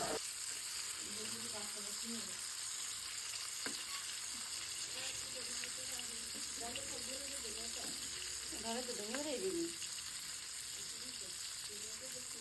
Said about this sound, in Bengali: এই ক্ষেত্রে আমার মাছটা ভাজতে কোনো সমস্যা হয় না বিদায় আমি এভাবেই ভাজিয়ে নিলাম